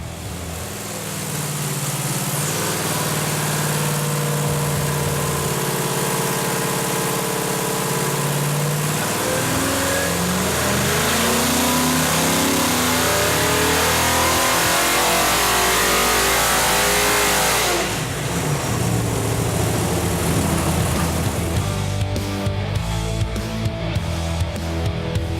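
A Motown LS V8 engine runs on a dyno. It climbs from a low rumble into a long, loud, rising pull, then drops back and settles near idle, with no talk.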